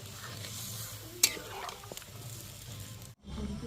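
Chicken feet frying in a pan in a village-style Bengali kitchen keep sizzling steadily as water is poured in, with a sharp splash and hiss, then the sizzle briefly cuts out before resuming.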